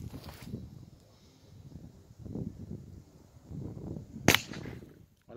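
An air rifle with a 600 mm barrel firing heavy 2-gram pellets at a target about 80 metres away outdoors, heard as one sharp, loud crack near the end over faint wind and low voices.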